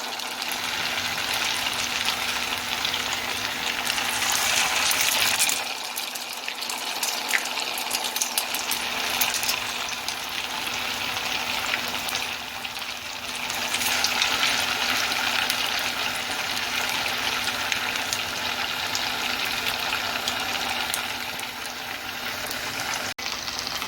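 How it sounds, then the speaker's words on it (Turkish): Oil sizzles and crackles steadily and loudly in a continuous hiss as bread patties shallow-fry, close by, with no talking. "alıp kısmi yağda kızartacağız"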